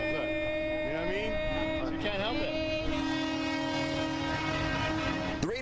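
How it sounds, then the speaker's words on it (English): Raider fans in Las Vegas honk car horns in a sustained, layered blare of overlapping tones, with some horns sliding in pitch and a brief rumble of traffic underneath. "All the Raider fans honking and stuff."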